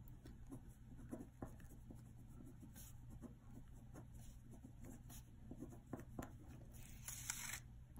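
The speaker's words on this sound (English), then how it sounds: "So I'm gonna write that up here in blue." Marker writing on a board during a math lesson: faint, quiet scratching strokes in short bursts over a low background hum, with no speech.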